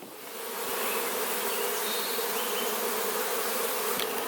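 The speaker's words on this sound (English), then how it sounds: "the bees seem a lot more protective today" Honey bees buzz around a hive in a dense, steady drone that swells in over the first second and then holds at an even, moderate level with no talk.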